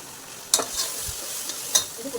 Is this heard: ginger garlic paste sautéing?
yes